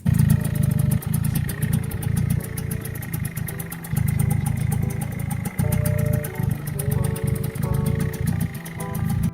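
A Suzuki AX100 two-stroke motorcycle engine idles close by with a steady, buzzing throb. Tonal, music-like lines sit over the engine note throughout, and no one speaks.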